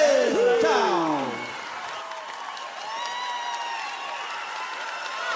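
A live audience at a sertanejo show applauds and cheers, a broad steady wash of clapping and crowd noise that starts under a sung or shouted voice and continues on its own.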